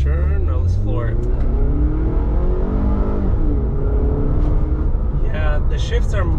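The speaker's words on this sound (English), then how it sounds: "We're gonna go for a test drive. All right, let's give it a turn. Now let's floor it." A 2011-2016 Scion tC, just after a transmission oil and filter change, pulls hard at full throttle on a test drive, its engine rising steadily in pitch through the gears, loud and close from inside the car.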